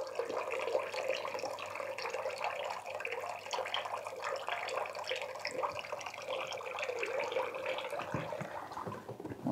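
Water pours from a 10 litre bucket into a Rovin Ecospin off-grid washing machine, a steady rushing splash that runs for about ten seconds with no voices.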